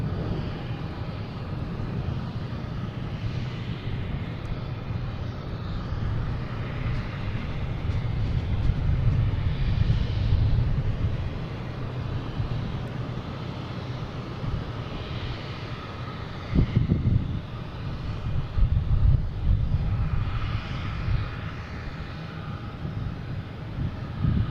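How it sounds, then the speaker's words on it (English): A JetBlue airliner inbound from Daytona Beach arrives at Boston Logan, with a broad jet roar rising and falling at a distance, muddied by wind buffeting on the microphone and no speech. "We got JetBlue coming in from Daytona Beach"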